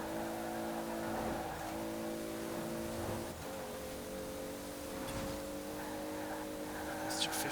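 Engine of a 1998 Toyota Supra RZ in the video game Forza Horizon 4, a steady droning rev held at high speed with slight pitch shifts, under a continuous mid-level rumble.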